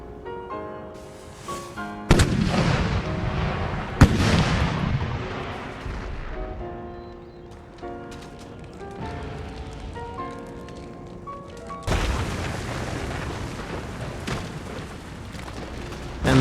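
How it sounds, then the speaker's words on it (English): Cannon fire from 12-pounder guns bombarding a fort wall in the Empire: Total War strategy game, heard as sudden deep booms at intervals over a continuous bed of orchestral music. "And let's add our 12-pounder cannon to that as well."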